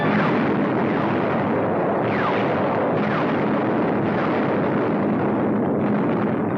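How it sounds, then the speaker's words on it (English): Aerial bombardment near Tunis in a 1944 wartime film: a dense, continuous roar of explosions and engine rumble, loud and unbroken throughout, with faint whistling sweeps rising within the din. "From the skies, a bombardment to which we had no adequate answer."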